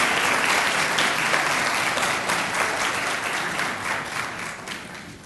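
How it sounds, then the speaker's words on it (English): An audience at a Gamma Beta Phi honor society induction ceremony gives sustained, even applause, a dense wash of many hands clapping at steady volume that tapers slightly toward the end. "Let's give another round of applause, inductees, for these folks who've supported and served"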